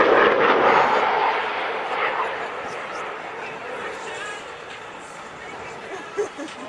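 An aircraft engine roars steadily overhead at an airshow landing, slowly fading as it passes, with voices talking faintly beneath the noise.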